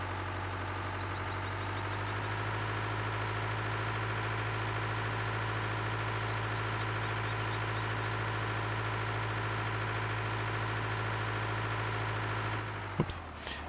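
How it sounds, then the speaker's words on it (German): Engine of a service tractor driving in Farming Simulator 15, a steady loud idling drone with a low throbbing hum that holds evenly throughout, then cuts off abruptly near the end with a brief clunk. "Mit unserem Service-Traktor."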